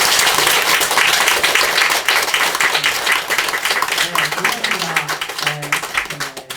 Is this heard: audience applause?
yes